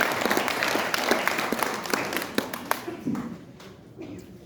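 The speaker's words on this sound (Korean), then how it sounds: "다시 한번 박수로 환영해 주시기 바랍니다" An outdoor rally audience applauds to welcome a Buddhist monk, a steady wash of many hands clapping with a few sharper claps standing out, moderately distant, fading toward the end.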